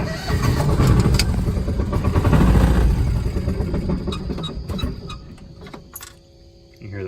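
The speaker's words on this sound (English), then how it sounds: "You hear that electric fuel pump." Electric fuel pump on a Kawasaki Mule 2510 utility vehicle, its steady whine emerging once loud broadband engine and driving noise fades toward the end, with no talking.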